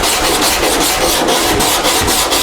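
Soft Bondo body filler is sanded lightly on a curved panel, giving a loud, continuous close rasping rub in steady back-and-forth strokes.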